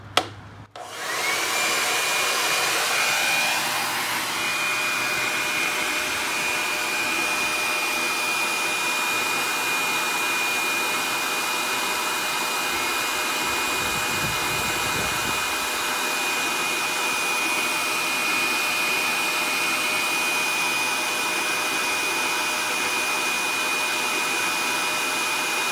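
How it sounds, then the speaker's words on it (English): An electric air blower powered by a Goal Zero Yeti 1250 power station spins up with a sharp start and then runs as a steady, loud whirring hiss with a constant high whine for about twenty-five seconds, with no talking. "we'll continue to charge while we use the air blower."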